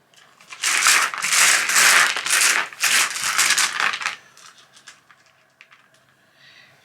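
Noctiluca game dice are mixed and spread across a table, giving a loud, rattling clatter in several surges for about four seconds before tapering into a few scattered clicks and taps.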